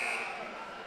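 A basketball game buzzer sounds to end the second quarter of a women's game, a loud sustained electronic tone in a noisy gym with crowd noise behind it.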